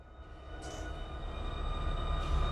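Conrail locomotives in the Run 8 train simulator game, a low rumbling engine and rail drone that grows gradually louder, with faint high tonal whines above it.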